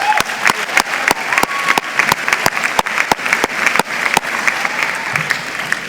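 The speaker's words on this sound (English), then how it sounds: "can we give Harrison Rosenberg another round of applause?" A large crowd claps at a 2015 high school graduation ceremony, with a dense continuous wash of applause punctuated by louder individual claps near the microphone throughout.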